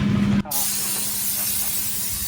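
A spray gun hisses steadily and loudly up close while a T-40 tractor is painted in John Deere colours, the spray beginning after a short break and running on without pause.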